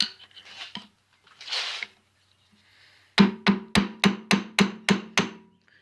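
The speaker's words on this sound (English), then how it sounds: "So I'm just going to take a screwdriver and just tap her off of there." A screwdriver taps a metal machined part off a dial indicator clamp in a workshop, with a stretch of scraping and rubbing followed by about eight evenly spaced, ringing metallic knocks, close and loud.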